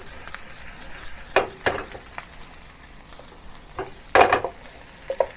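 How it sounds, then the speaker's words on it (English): Aromatics fry in a clay pot for a shrimp and glass noodle dish, a low steady sizzle broken by a few sharp scraping and clattering bursts as the pot is stirred. "Keep stirring so that it really have a little frying effect on it to really bring out the flavor."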